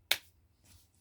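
A single sharp finger snap rings out close and clear, then a fainter soft follow-up sound, with otherwise quiet surroundings.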